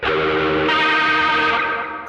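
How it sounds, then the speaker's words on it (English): Guitar tone swirling through a rotary speaker effect brought in by expression pedal on a Sonicake Matribox II, washed in delay and reverb, a sustained chord that shifts in texture midway before tailing off. "I'm using the expression pedal to bring in a rotary effect"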